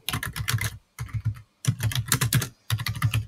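Rapid typing on a computer keyboard, close and crisp, in four bursts of clustered keystrokes separated by brief pauses, with no voices.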